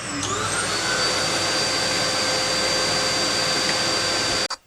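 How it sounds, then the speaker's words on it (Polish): A very loud household vacuum cleaner runs steadily at full power, used to clean a pet enclosure, with a constant whine and roar that cuts off abruptly just before the end. "Tu mam mój mega głośny odkurzacz."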